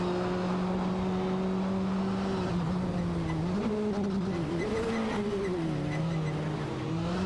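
Racing cars in a video game hold steady engine drones that rise and dip as they jostle and overtake, layered whines with faint tire noise, continuous and loud throughout.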